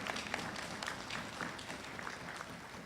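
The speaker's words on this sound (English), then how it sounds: "Please give all our newly elected members a warm round of applause" Faint, distant applause ripples through a hall at a cooperative credit union's annual general meeting as newly elected members are welcomed, soft and steady with no talk over it.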